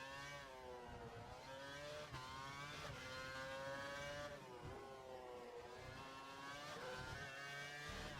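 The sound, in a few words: race car engine in F1 2012 video game, Valencia circuit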